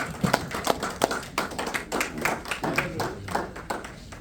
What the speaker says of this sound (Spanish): Den un aplauso a Cristo en esta noche.